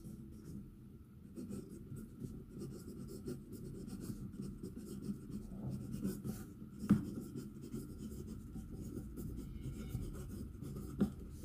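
A Franklin Christoph Music fountain pen nib with a 1.9mm, two-slit tip writes on paper, giving a soft, steady scratching that runs throughout with a couple of sharper ticks near the end.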